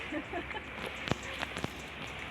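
Light rain falling on a surface in an outdoor setting, a faint steady patter with a few sharper drips standing out, quiet and without clear talk.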